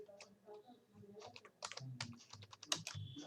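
Typing on a computer keyboard while working in an Excel spreadsheet, a quick run of close, crisp key clicks in uneven bursts with short pauses between them.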